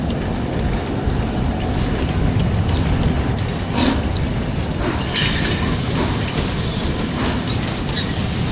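A train rumbles past at the Anhalter Bahnhof station in the Sniper Elite video game, a loud, continuous rolling roar with faint rattling and clatter throughout.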